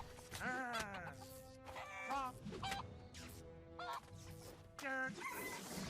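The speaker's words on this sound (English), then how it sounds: "let Mr. Slave take on those chickens as much as he can" Honking, clucking chicken calls in the video game South Park: Phone Destroyer, in repeated bursts, fairly close and loud, with short gaps between them.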